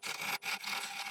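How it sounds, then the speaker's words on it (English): Wood lathe tool cutting a small recess into spinning wood, a steady scraping hiss in two bursts with a brief gap, close and alone. "So I just want to put a small recess in just to reverse mount it."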